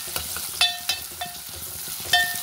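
Onions fry in a pan for a Kadapa-style curry, a steady close sizzle broken by several sharp clanks of a spoon or spatula stirring against the metal.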